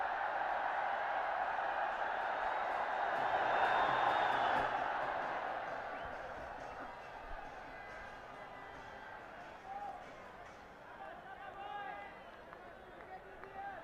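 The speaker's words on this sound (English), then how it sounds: "We can clearly hear the roar from the crowd" Cricket crowd at a Nepal vs UAE final, a broad roar of cheering that swells and peaks early, then settles into a steady distant murmur, with a commentator talking over it.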